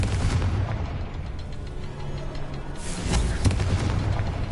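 A Confringo fire spell from Hogwarts Legacy bursts in a booming explosion, with a second heavy blast near the end, both loud and close over a rumbling game backdrop.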